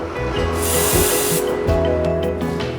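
A can of bug spray hisses in a loud burst lasting about a second as it is sprayed against cockroaches, with a quieter short spray following. Background hum and faint clatter run underneath.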